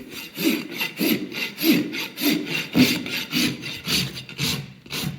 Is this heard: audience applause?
no